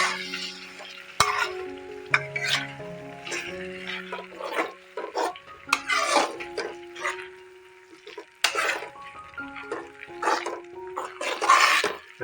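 A spoon stirs a thick tomato thokku mixture in a pan, giving soft scraping and sizzling strokes in irregular bursts over a quiet hum, close and moderately loud.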